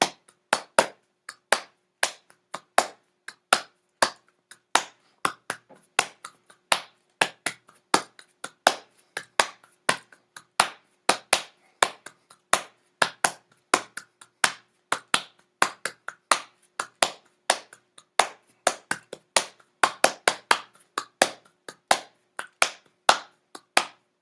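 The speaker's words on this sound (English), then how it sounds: "Yes, this is what they call table beat." Hands beat on a table in a brisk rhythmic pattern, sharp dry slaps repeating in quick clusters and steady pulses, fairly close and alone with no voices.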